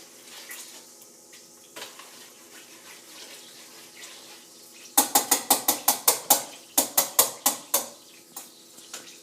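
Metal tongs stirring thick peach BBQ sauce in a pot: soft scraping at first, then a close, rapid run of about a dozen sharp clinks against the pot.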